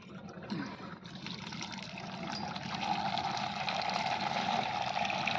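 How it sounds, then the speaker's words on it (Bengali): Tap water runs steadily from an outdoor faucet as beans are washed beneath it, a continuous close splashing stream that grows slightly fuller and louder after a few seconds. "তো এইভাবে সিমগুলোকে এখন ধুয়ে নেব।"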